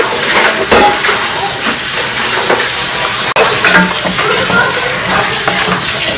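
Ginger-garlic paste with turmeric, chili powder, coriander-cumin and salt frying in a pan, giving a steady loud hiss and sizzle with brief stirring scrapes and a sharp click partway through.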